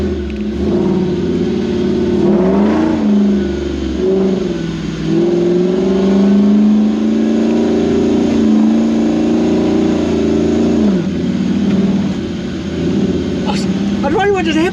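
A Toyota Land Cruiser bush truck with a 1UZ VVTi V8 and manual gearbox, running rough on four cylinders, revs steadily near and loud, with pitch dips as it shifts, under people talking.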